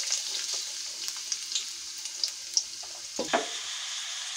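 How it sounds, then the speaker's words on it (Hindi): Onions drop into hot ghee and fry with a steady bright sizzle for dal makhani, a few stirring clicks and a louder splashy burst near the end, no voices. "इसमें घी गरम हो गया और इसमें हम डाल देते हैं ये प्याज।"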